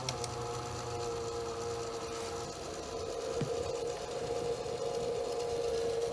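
An APEVIA SFX-AP400W power supply in a PC winds down during shutdown, giving a steady mechanical whir and hum at moderate level throughout, with no talking.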